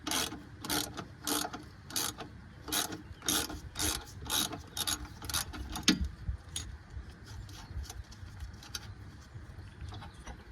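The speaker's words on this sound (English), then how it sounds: "you're going to need to hold a wrench on one end while you loosen the other side" A wrench ratcheting on size 13 bolts while loosening the strut tower nuts on a BMW E36, steady close clicking bursts in quick rhythmic runs for the first half, then quieter intermittent clicks.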